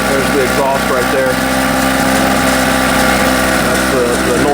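A Harbor Freight generator runs steadily, recorded close on its exhaust side: a loud, continuous engine drone with a buzzing, even tone that holds from start to finish with no pauses.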